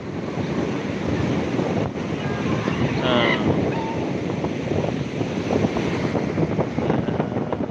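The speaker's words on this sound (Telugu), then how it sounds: "రాకాసి అల్లలు అంటే అది చూడు చెప్పులు కాడికి వచ్చి" Sea waves wash up a beach in a continuous loud roar mixed with wind buffeting the microphone, with faint voices in the background.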